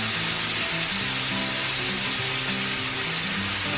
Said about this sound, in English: So we're gonna cook the bacon